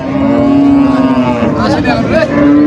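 Cattle lowing at a busy cattle market, a long loud moo held over dense crowd noise and engine rumble, close by.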